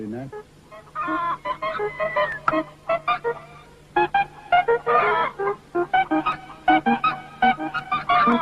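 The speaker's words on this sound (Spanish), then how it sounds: "la gallina recibe todo lo que necesita: protección, compañeras y comida" Hens cluck steadily and loudly up close, a busy run of short, choppy calls in uneven bursts with brief pauses, over a low steady hum.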